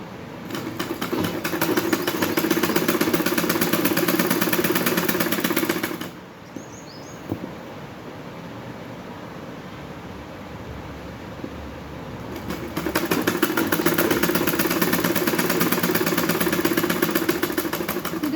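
A sewing machine stitches a lined suit in close, loud, rapid whirring runs, pausing for several seconds in the middle before starting again.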